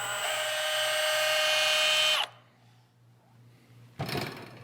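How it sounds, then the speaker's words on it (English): A tool grinds a chamfer into a machined part for an off-road 6x6 build, a loud steady high whine for about two seconds that stops abruptly, followed by a short burst of scraping. "that's definitely putting a chamfer on it"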